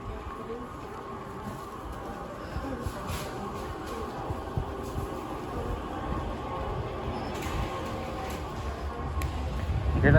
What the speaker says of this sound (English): See? You hear that, guys? That's a train.